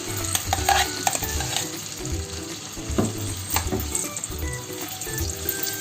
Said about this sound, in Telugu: ఈ ఖజూరం పేస్ట్ని యాడ్ చేద్దాము